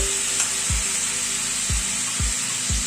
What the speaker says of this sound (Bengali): আলু পটলের সাথে ঝিঙেটা দিয়ে প্রায় মিনিট চার পাঁচেক মতো কুক করে নিলাম